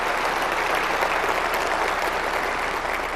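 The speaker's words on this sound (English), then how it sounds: "I think that's worth a round of applause." A crowd claps steadily in dense, sustained applause throughout, loud and close, with no voices standing out, at a Sony E3 2005 press conference.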